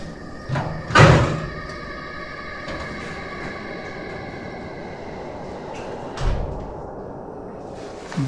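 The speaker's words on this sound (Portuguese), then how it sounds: "Eu fechei a porta abriu." A door is shut and then swings back open by itself, giving a sharp knock near the start and a softer thud later, over a constant low background hum.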